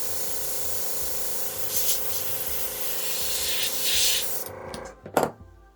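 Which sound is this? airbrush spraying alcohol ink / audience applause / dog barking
airbrush spraying alcohol ink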